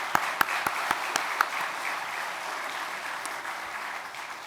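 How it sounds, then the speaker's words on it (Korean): A church congregation applauds to welcome and encourage visiting missionaries at a Sunday service, opening with a few sharp claps that swell into steady, even clapping that slowly fades. "우리 박수로 다시 한번 환영하고 격려하겠습니다"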